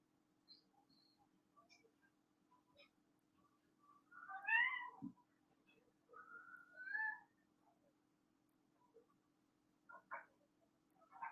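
A cat meows several times at intervals, in short, rising, faint cries separated by quiet, over a soft steady low hum.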